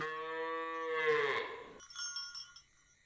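A cow lets out a long, loud moo close by, followed by a few bright bell-like clinks, with no talk.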